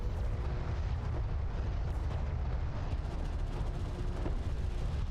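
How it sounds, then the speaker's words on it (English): Strike craft explode in the real-time strategy game Homeworld: Deserts of Kharak, a steady roar of battle rumble punctuated by several muffled blasts and cracks, continuous and dense throughout with no speech. "Strike craft destroyed."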